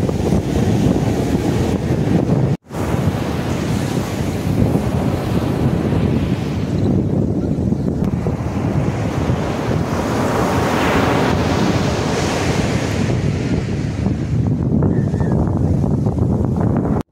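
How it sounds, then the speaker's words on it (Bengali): Ocean waves crashing on Juhu beach in Mumbai, a loud continuous roar of surf with heavy wind buffeting the microphone, swelling and easing over the span, and one brief dropout near the start. "আর নিচে সমুদ্রের গর্জন।"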